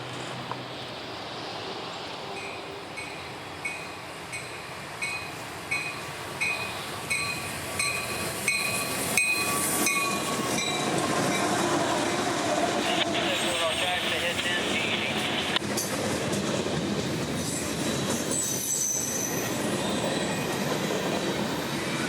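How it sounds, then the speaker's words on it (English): A CSX freight train, M453 led by a rebuilt SD70, rolls past heading south with a long string of auto racks, its regular wheel clicks building into a loud, steady roar with squeals, and a voice talks underneath. "calling as our old friend M453, heading south today led by one of CSX's rebuilt SD70s"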